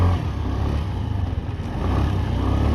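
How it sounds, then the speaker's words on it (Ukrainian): A new Suzuki Address 125S scooter engine idles close by with a deep, bassy, steady putter, running continuously without any voices. "Басистий звук мотора приємний."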